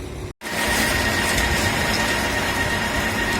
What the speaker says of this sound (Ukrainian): запускають двигун і лентою подають мені на загрузку в бочку